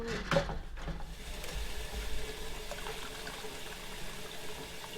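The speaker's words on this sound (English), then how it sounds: "With adding water to this, I did make sure it was hot water." Hot water from a kitchen sink tap is poured into a canning pot holding jars of homemade BBQ sauce, giving a soft, steady liquid rush close by with a few clunks early on and no speech.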